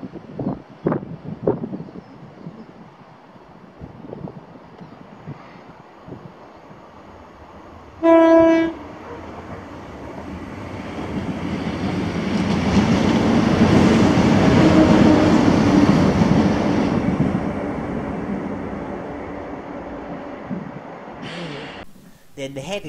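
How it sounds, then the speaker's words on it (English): A ScotRail passenger service from Edinburgh to Inverness passes Blair Atholl, giving one short horn blast followed by a rumble that swells as the train draws near, then fades away in the distance. "this was 1H13, the 1530 ScotRail service to Inverness from Edinburgh."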